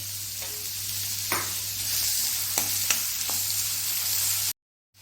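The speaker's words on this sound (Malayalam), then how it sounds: "അതിലേക്ക് നമുക്ക് ഈ സവോളയും പച്ചമുളകും വെളുത്തുള്ളി ഇഞ്ചിയും കൂടി ഇട്ട് കൊടുക്കാം ഇതൊന്ന് വഴറ്റിയെടുക്കട്ടെ" Onion, green chili, garlic and ginger sauté in a pan for a tapioca and egg dish, giving a steady close sizzle with a few stirring scrapes before it cuts off abruptly near the end.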